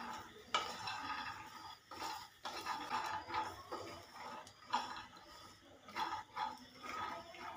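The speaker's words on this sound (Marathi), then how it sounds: "तर आता हे शेंगदाणे आपण व्यवस्थित भाजून घेऊया।" Dry peanuts roasting in a pan, stirred steadily, with repeated scraping and rattling strokes coming in uneven bursts and short pauses, close by and fairly loud, with no talking.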